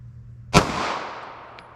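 A single sharp 9mm pistol shot from a 4-inch barrel firing an FBI 135 grain +P load, loud and close, with a short echoing decay and no talking.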